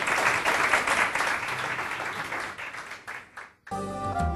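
Loud, dense audience applause at a Karadeniz Star music event, a continuous wash of many clapping hands that thins near the end before music begins.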